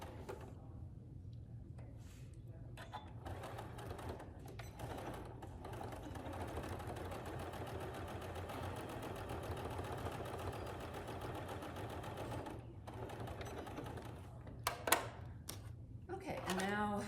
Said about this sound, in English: now I'm gonna do a 1/4 inch seam